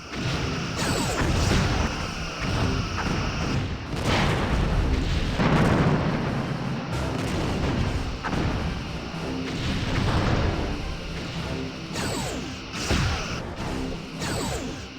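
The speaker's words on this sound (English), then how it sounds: "Sweeping through phaser arcs." Repeated phaser blasts and booming weapon impacts ring out in the Star Trek Bridge Commander space combat game, a series of loud sweeping bursts and crashes layered over a rumbling background.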